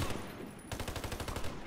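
Rapid bursts of automatic gunfire in the Warface shooter game, a short shot then a fast rhythmic volley of a dozen or so cracks, fairly loud and close with no talking.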